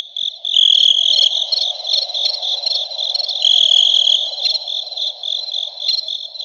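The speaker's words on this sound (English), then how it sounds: "I hear crickets chirping." A steady, dense chorus of chirping insects, high-pitched and continuous, with a softer buzzing layer underneath and no voices.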